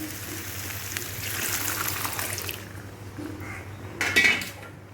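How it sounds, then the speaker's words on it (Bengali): Dried peas pour into a cooking pan of ghugni, a soft rattling spill followed by clinks of a utensil against the metal pan and a sharper clatter near the end, all fairly quiet with no talking. "এই যে মটর ঢালছি আমি"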